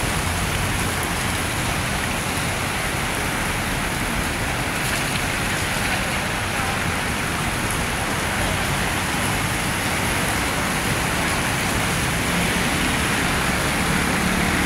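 Steady, gentle rain falls continuously on a Monday, a dense, even hiss of drops on surfaces with a faint roadway murmur beneath and no break in the patter.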